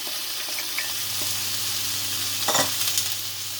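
Onions frying in a pan for a Turkish minced-meat börek filling give a steady close sizzle, with a brief burst of stirring and scraping partway through.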